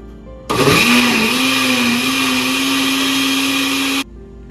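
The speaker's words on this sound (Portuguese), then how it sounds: "Vamos bater tudo no liquidificador até misturar bem." Kitchen blender whirring through lemon cake batter, switching on abruptly, running loud and steady for about three and a half seconds, then cutting off.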